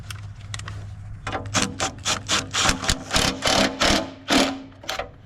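Cordless impact wrench driving bolts during small repairs on a G1050, a run of about ten rapid hammering bursts in steady rhythm, loud and close with brief pauses between them.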